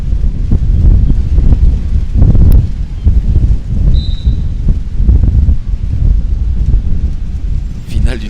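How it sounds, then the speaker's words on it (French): Gusty wind roars across the microphone in loud, uneven bursts during a beach volleyball match, with a few faint voices and a sharp knock partway through. "malgré le vent fort"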